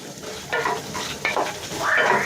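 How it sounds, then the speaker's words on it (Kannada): Chopped onions roasting in a pan for homestyle chicken biryani, stirred in bursts: a steady sizzle runs throughout while a spoon scrapes and clinks against the pan several times, close and clear with no talking. "ಈರುಳ್ಳಿ ಹಾಕ್ಕೊಂಡು ಚೆನ್ನಾಗಿ ಸ್ವಲ್ಪ ರೋಸ್ಟ್ ಮಾಡ್ಕೊಳ್ಳಿ"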